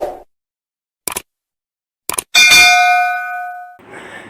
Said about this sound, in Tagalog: click yung notification bell